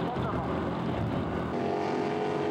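Racing powerboats, including a Mercury-powered Nortec, roar past in a Powerboat P1 world championship race at Gothenburg, Sweden, a loud rushing engine drone that shifts in pitch as they go by.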